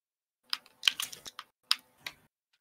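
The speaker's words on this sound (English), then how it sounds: "Now he's just going to sit on my keyboard." Computer keys pressed irregularly by a cat sitting on the keyboard, a scattered burst of clicks and clacks with uneven pauses, close and fairly soft, with no talking.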